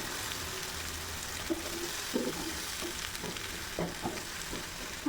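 Chilli and garlic fry in hot oil for a pizza sauce, giving a steady, soft broadband sizzle with a few light clicks and scrapes of stirring throughout.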